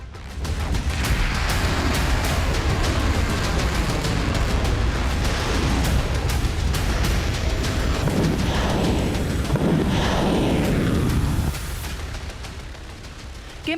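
North Korean cruise missiles launch over the Sea of Japan as a loud, sustained broadband rushing roar. It holds steady for about ten seconds before tapering off sharply.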